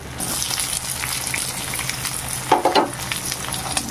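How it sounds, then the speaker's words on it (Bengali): Chopped onion and crushed garlic fry in oil for a taro-leaf dish, a soft continuous sizzle with a few louder clatters of a spoon stirring the pan near the end. "এবার পেঁয়াজ আর রসুনটাকে বাদামি করে ভেজে নেব।"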